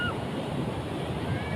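Ocean waves at Pelabuhan Ratu beach, a steady, broad wash of surf with some wind across the microphone, filling the whole moment without a clear break.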